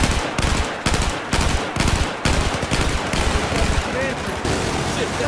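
Helicopter-mounted Gatling gun in the video game Battlefield 4, rapid bursts of loud machine-gun fire in quick successive volleys, close and dominant.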